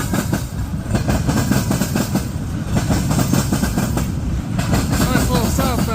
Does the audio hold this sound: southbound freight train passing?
yes